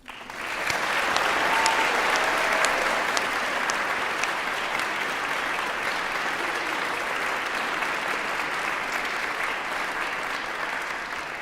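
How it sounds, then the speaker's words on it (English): Sustained applause from an audience at a School of Music graduation and hooding ceremony for the new graduates, dense and steady for the whole stretch, with a few sharper claps standing out near the start. "Can never have too much applause."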